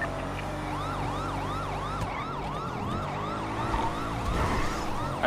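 An EMS ambulance siren on a city street, a rapid rising-falling wail repeating steadily through the whole stretch at moderate distance over traffic rumble, with no talking.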